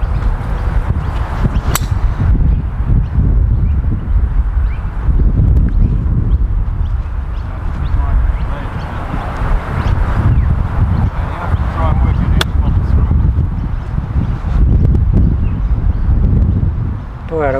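Strong wind buffeting across an open golf course, a steady loud rushing roar with gusty swells that run throughout, with a voice talking over it.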